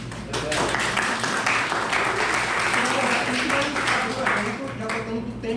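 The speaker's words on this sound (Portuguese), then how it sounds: "Peço uma salva de palmas para ele." Applause from the audience at the Liberty Open 2023 event in Brazil, a full, even roar of clapping that stays loud and steady across the whole stretch with a murmur of voices blended in.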